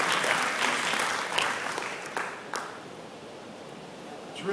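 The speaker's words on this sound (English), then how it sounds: "Round of applause." Audience applause for a guest speaker at a LinkedIn APAC coffee chat, steady clapping from a room of people that stays fairly loud, then slowly thins and fades across a few seconds.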